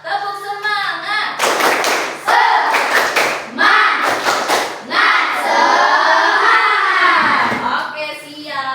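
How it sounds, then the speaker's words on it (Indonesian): Classroom children perform a rhythmic spirit clap, sharp grouped claps and thumps in a patterned sequence mixed with kids' voices chanting along, loud and close. "Tepuk semangat."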